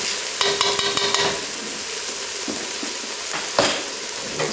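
Minced garlic frying in a pan for vegetarian chili, sizzling steadily while a spoon stirs and scrapes with a few sharp clacks against the pan, close and alone.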